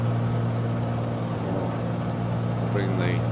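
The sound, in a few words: light aircraft engine revving down, from video game Flight Simulator 2020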